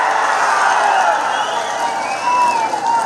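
A large crowd at a political rally in Vedaranyam, Nagapattinam district, cheers and shouts in a steady dense roar, loud and continuous, with no single voice standing out.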